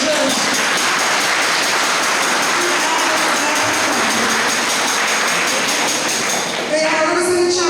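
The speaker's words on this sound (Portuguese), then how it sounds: "Salve de palmas para vocês" An audience at a CEBs community gathering in Ponte Nova bursts into dense, sustained applause, loud and close, with the clapping shifting slightly near the end as voices mix in.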